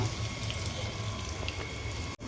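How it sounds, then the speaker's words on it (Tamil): Hot starchy water drains off a pot of cooked raw rice in a home kitchen, pouring in a steady, close rush that ends with a brief cutoff. "முதல்ல சாதத்தை வடிச்சிடலாம்"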